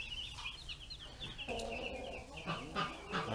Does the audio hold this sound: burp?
no